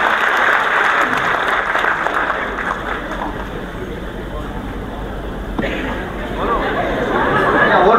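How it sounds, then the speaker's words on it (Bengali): An audience at a live event bursts into sustained, dense clapping that swells and dips, heard close and loud with crowd chatter mixed in. "আপনারা একটা হাততালি দিন তো"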